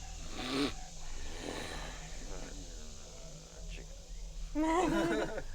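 A voice imitates a person snoring, giving a few drawn-out rasping, throaty breaths spread across the span, close and fairly loud, with some speech-like sounds mixed in.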